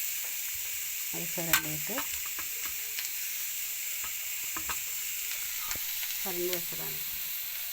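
Grated raw papaya fries in a pan for a thoran, giving a steady, even sizzle and hiss throughout, with a few faint stirring touches and a voice speaking briefly over it.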